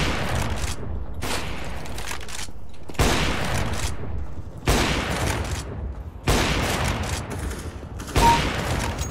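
Bursts of automatic gunfire from a CS:GO match, arriving as several dense, loud volleys separated by brief pauses, with no talking over them.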